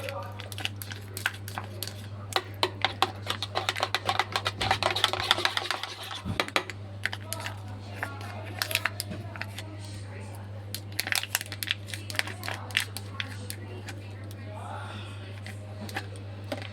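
A spoon stirs 50 grams of strained yogurt into mango in a bowl, giving soft repeated scraping and clicking against the dish over a steady low hum, with brief bursts of heavier mixing.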